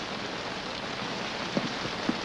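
Steady rain pours down in a western frontier setting, a dense close hiss of drops on surfaces with a couple of brief louder knocks, and no talking.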